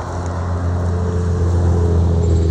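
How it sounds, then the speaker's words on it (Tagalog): A road vehicle rumbles past as a low, steady engine drone that swells slightly louder toward the end, heard alone without voices. "May naririnig kayo na parang sasakyan."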